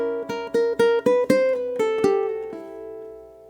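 Ukulele fingerpicking walks down through a diminished chord, with about eight distinct plucked notes in an even rhythm that ring out and fade at the end, played close and alone.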